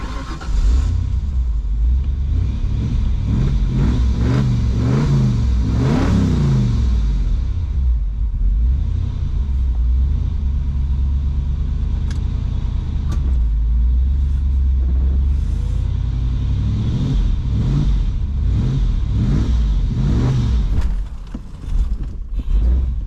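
The V8 engine of a 1995 Ford Mustang GT convertible that has been sitting unused rumbles loudly and unevenly at close range, revving up in rough surges, then settling into a lumpy idle, with no voices.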